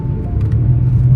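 Car engine idling low and steady right after an automatic transmission is downshifted into second gear, a close continuous rumble with no talk.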